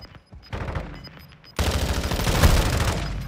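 Gunfire in Call of Duty: Modern Warfare II: scattered shots give way to a loud, sustained barrage of rapid automatic fire that fills the second half.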